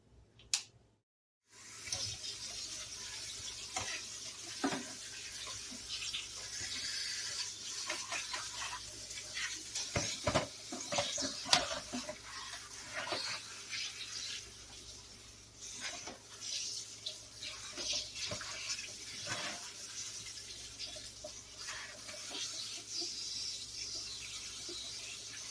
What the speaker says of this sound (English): I'll be back in just a minute when I get my vegetables started to rinse